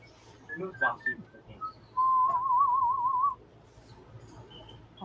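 Someone whistling in a bathroom: a sustained, warbling single-note whistle of about a second, preceded by a few short, scattered vocal sounds and faint background noise.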